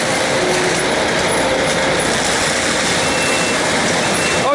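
Land-clearing machine grinding through forest to open a trail, a loud continuous roar and mechanical rumble close by, steady throughout with no talking.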